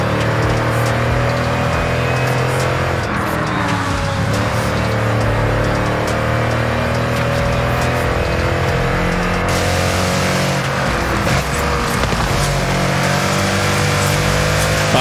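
Powerful sports car engines in Forza Horizon 5 rev and roar continuously and loudly, with rising and falling pitch and occasional tire squeal, heard from inside the car without talk.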